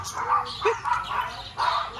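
A dog barks a few times in short, yappy bursts at moderate distance at a resort in Guinayangan, Quezon Province, Philippines, with some background chatter and ambient noise.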